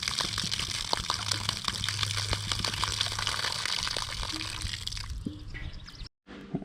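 Water flushing out a part from a Hesston 140 Front Runner garden tractor, a steady close splashing trickle with scattered drips, continuing for several seconds before a brief cutoff.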